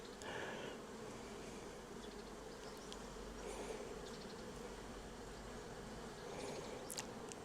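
A dense, continuous buzz of honeybees flying in and out of an active hive on a hot 27-degree day, heard close up and steady throughout with no voices.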